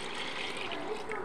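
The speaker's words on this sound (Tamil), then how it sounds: "2 டம்ளர் சீரக சம்பா அரிசிக்கு நான் 5 டம்ளர் தேங்காய் பால் ப்ளஸ் கொஞ்சம் தண்ணி ஆட் பண்ணுறேன்" Coconut milk and a little water pour onto soaked seeraga samba rice in a pot, making a brief, soft, continuous liquid trickle close by.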